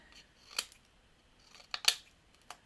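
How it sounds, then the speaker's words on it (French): Scissors snip through paper tabs in a few separate crisp cuts, two close together near the end and one lone snip before, each short and sharp against a quiet room. "les languettes on les coupe"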